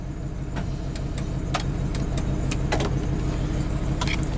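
A 1997 Ford F150 truck running in four-wheel-drive low gives a steady, close engine and drivetrain rumble. Brief clicks and rattles sound now and then throughout.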